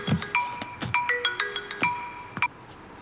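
A telephone ringtone from a Hindi-dubbed film scene trills in repeated electronic bursts, fairly close and clear, with no talk over it.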